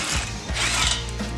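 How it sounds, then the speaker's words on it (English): A winch is pulled off with a continuous metallic ratcheting, grinding rattle, loud and close throughout a short stretch with no talk. "let's pull that winch off"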